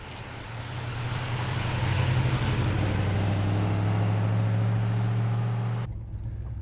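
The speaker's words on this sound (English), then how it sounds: "When you saw the car rev up or heard the car rev up" A gold 1965 Pontiac GTO with a tri-power engine and four-speed runs loud and close, a deep throbbing rumble that swells and holds steady for several seconds before cutting off abruptly near the end.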